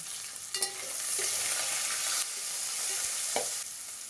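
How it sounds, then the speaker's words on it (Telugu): Crushed garlic, green chillies and curry leaves sizzle loudly in a hot pan for a chicken curry, a steady close frying hiss broken by a few clinks and scrapes of stirring. "దంచిన తెల్లగడ్డ పాయలు వేసేద్దాము. పచ్చిమిర్చి, కరివేపాకు వేసేద్దాము."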